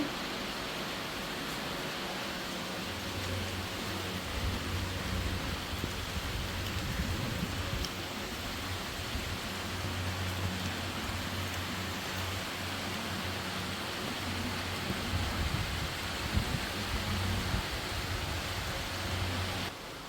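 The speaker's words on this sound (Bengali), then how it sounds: "আর এখন বৃষ্টি শুরু হয়েছে" Rain just starting to fall, a steady faint broadband hiss throughout with a low rumble beneath, no talking.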